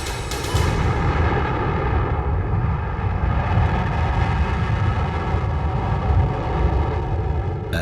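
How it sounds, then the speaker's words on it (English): A Proton rocket lifts off at Baikonur, a loud continuous roar of rocket engines that fills the whole span with dense, rumbling thunder and crackle, steady and powerful without pause. "the Proton rocket took off."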